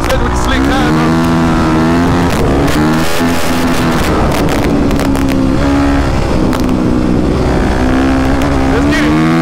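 Honda CRF450R and KTM 525 dirt bikes on slick tires rev hard on a trail, a loud, continuous engine roar with rising and falling pitch, close by, with a voice speaking over it.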